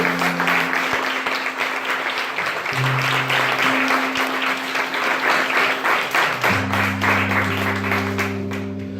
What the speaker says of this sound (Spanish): Dale un fuerte aplauso a Rey.